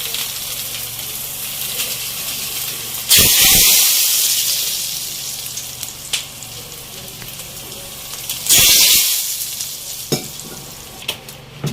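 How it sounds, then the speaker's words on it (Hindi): Two loud bursts of sizzling as hot oil tempering is poured onto Hyderabadi khatti dal, each hissing sharply then fading, over a quieter background of crackling and clinks. "हमारा तड़का रेडी है, हम इसको दाल पे लगाएंगे।"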